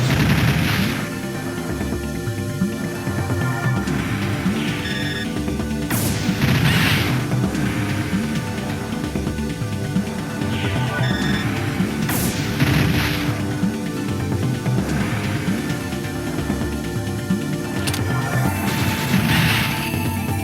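Gunfire in the Panzer Dragoon Saga video game, repeated bursts of shots and crashing impacts over a constant loud game soundtrack, with several sharper blasts at intervals.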